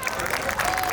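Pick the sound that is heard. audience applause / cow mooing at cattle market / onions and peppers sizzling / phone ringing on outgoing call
audience applause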